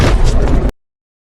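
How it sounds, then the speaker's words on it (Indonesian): A sudden burst of film gunfire as police surrounding a place shoot a man dead, heavy booming blasts packed into well under a second, loud and close, then a hard cut to silence. "polisi telah mengepung tempat itu dan tanpa ampun menembak mati dirinya"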